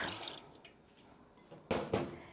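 Milk pours and splashes briefly into a bread machine pan, a soft trickle followed by two louder splashing bursts near the end, with no talking.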